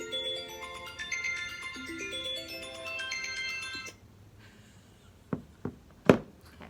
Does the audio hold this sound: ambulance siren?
no